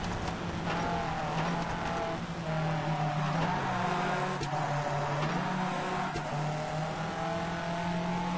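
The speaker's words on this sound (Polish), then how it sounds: "Dziwne tutaj są dźwięki zmiany tych biegów" A racing car engine roars steadily near and loud, its pitch dipping and jumping in abrupt steps like gear changes, with brief popping cracks.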